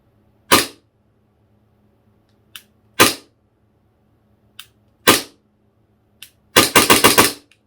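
A gas-powered Army Custom Staccato 4.3 Hi-Capa airsoft pistol dry-fired with no BBs: four sharp, separate pops with faint mechanical clicks between them, then a fast string of about five shots at the end, all close-up in a quiet room.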